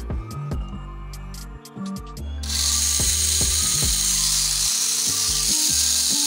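A few sharp mechanical clicks, then an engine catches and runs with a steady, close whirring roar.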